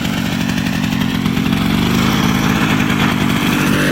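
A small two-stroke engine runs under load, sputtering with a loud, steady, rough drone close by, alone without any talk.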